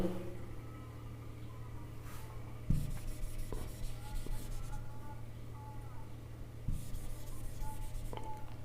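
Chalk or marker scratching on a classroom board while a chemistry definition is written out, with short strokes and taps over a steady low hum and a faint voice in the background.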